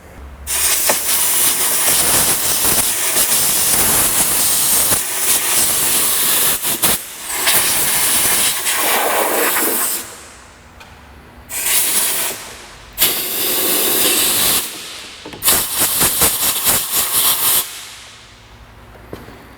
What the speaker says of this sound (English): Let me get some compressed air.